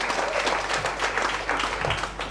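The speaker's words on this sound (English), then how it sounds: "Big applause for everyone for being here" Audience applause at a PechaKucha Night in Ubud, Bali, a steady wash of clapping from a room of people lasting a couple of seconds with some crowd noise mixed in.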